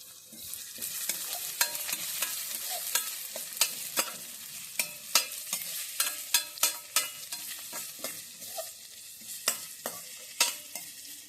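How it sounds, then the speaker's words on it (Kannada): Onion sizzles gently in melted ghee while a spoon stirs it, with frequent sharp scraping and tapping strokes against the pan over a steady frying hiss, close and without talking. "ತುಪ್ಪ ಕರಗಿದ ಮೇಲೆ ಅದಕ್ಕೆ ಈರುಳ್ಳಿ"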